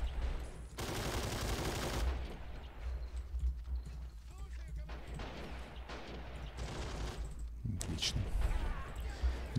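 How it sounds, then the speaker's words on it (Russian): Machine gun fire in the war game Assault Squad 2, a dense continuous rattle of bursts and distant battle noise mixed together, with a louder shot cluster near the end. "Так, пулемет накрывает."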